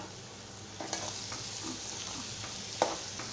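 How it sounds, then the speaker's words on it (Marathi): Mango pickle mixture with jaggery, red chilli powder and turmeric coming to a boil in a Malvani-style preparation, giving soft continuous bubbling and sizzle with a few faint stirring scrapes and one sharper clink near the end. "आता हे बघा उकळ आलेलं आहे"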